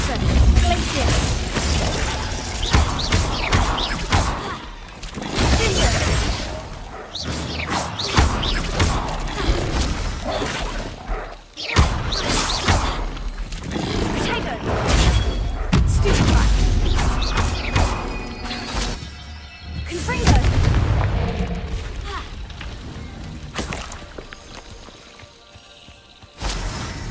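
Confringo fire-spell blasts in Hogwarts Legacy on PS4, a dense run of crashing, shattering impacts and mechanical clatter during combat, loud and nearly continuous, with character voices mixed in.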